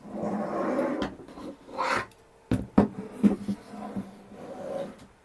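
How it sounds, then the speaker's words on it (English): Scraping and rasping handling sounds at close range as the X-beam is unscrewed from a Sovol SV08 3D printer, with a few sharp clicks and knocks and quieter pauses between. "I am unscrewing the X-beam."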